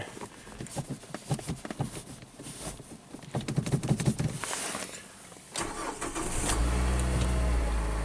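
A Mazda with a six-speed manual and a rich-running poor idle cranks and fires up nearby, the starter whirring before the engine catches and settles into a loud, steady idle.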